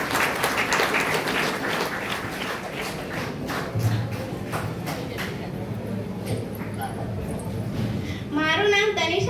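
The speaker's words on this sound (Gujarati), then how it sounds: "સૌ તાળીઓ દ્વારા આપણે અભિવાદન કરીએ" A school admission-festival audience claps in welcome for a student speaker, sustained applause filling the hall with a few thumps, and a voice briefly rising over it near the end.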